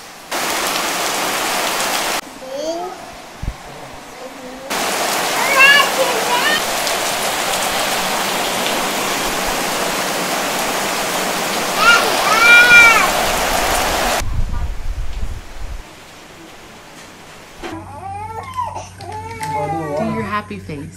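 Rain falls steadily on a Thai island, a dense hiss that comes and goes in long stretches, while a baby cries and people talk intermittently nearby.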